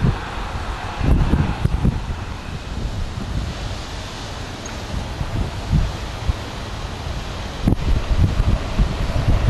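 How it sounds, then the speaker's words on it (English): Strong wind gusting across an open railway junction, a steady broadband roar with low buffeting rumbles on the microphone throughout, with no train or voices clearly audible. "it's very, very windy"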